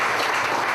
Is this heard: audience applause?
yes